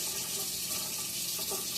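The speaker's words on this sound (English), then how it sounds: "Going to do a half cup of water right in there." Half a cup of water is poured into a pot of cauliflower stew, giving a brief, continuous splashing gush heard close up and on its own.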